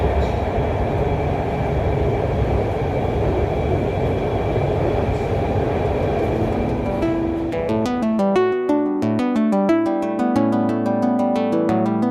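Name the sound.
Lahore Orange Line metro train running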